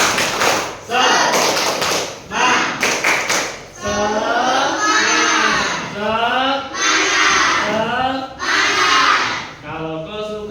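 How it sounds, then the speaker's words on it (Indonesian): Hands clap in a classroom, with a few sharp, quick claps near the start, then singing voices carry a children's clapping song with intermittent taps underneath. "Kalau kau suka hati tepuk tangan."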